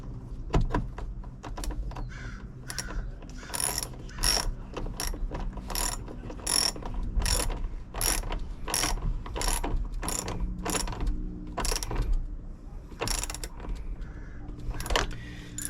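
A ratchet clicks in quick bursts while snugging a battery terminal on a 2016-2023 Toyota Tacoma fitted with a Walmart EverStart AGM battery. The sharp, close pawl clicks are heard alone, without talk.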